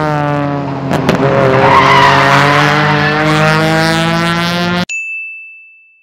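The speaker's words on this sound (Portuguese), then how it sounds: "Tá batendo a traseira e empurrando os carros." A car skidding on a São Paulo road and hitting other cars, a long loud tire squeal with engine roar cut off abruptly by a sharp impact, then a lingering ringing tone.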